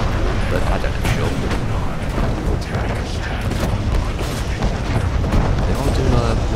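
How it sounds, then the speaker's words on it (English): A long-range missile attack in the video game Renegade X, with continuous booming impacts and artillery-like rumble at steady loudness, and a voice talking over the barrage. "They are doing a long-range missile attack on us."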